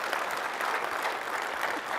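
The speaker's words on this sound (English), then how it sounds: "That's totally worthy of applause." An audience at a tech talk on Cordova and Ionic mobile development bursts into continuous applause, a dense, even patter of many hands clapping at steady volume for the whole stretch, with no voices standing out.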